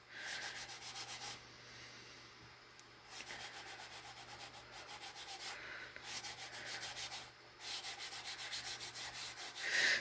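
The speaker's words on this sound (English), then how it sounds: "So when you sand it like that" Hand sanding along the edge of a hat brim being shaped with a traditional pencil curl, a steady raspy rubbing in repeated strokes with brief pauses between passes, close and fairly loud with no talking.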